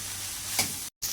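Curry ingredients for lemak taufu fry and get stirred in a pan, giving a steady close sizzle with a brief scrape of the spoon before the sound cuts out for a moment.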